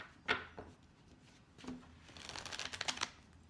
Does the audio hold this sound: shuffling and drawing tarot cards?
yes